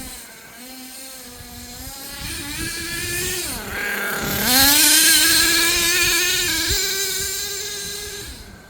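An HPI Savage XL V2 nitro RC monster truck engine buzzing loudly, rising and falling in pitch as it revs, dips briefly, then climbs and holds a high whine before easing off.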